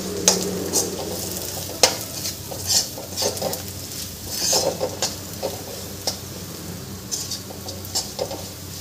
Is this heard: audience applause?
no